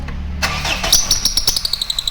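A car engine cranking and catching during ignition coil and spark plug diagnosis, a short whir of the starter followed by a rhythmic idle close by.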